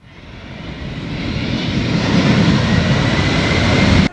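An airplane engine at Nouakchott airport roars loud and close, a broad rushing drone that swells steadily over several seconds before cutting off abruptly.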